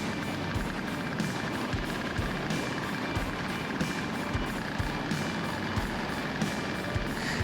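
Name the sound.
microlight aircraft engine on final approach for landing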